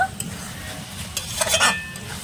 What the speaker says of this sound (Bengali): এবার সবকিছু মিশিয়ে আরো ভালো করে কিছুক্ষণ কষিয়ে নেব।